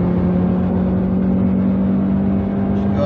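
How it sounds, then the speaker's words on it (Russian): A Lada Granta Sport's small naturally aspirated engine drones steadily at sustained revs, loud and close, with a constant low hum and no talk over it. "Я никак не ожидал, что на автомобиле такого класса будет так приятно звучать двигатель, причем такого маленького объема, без всякой турбины"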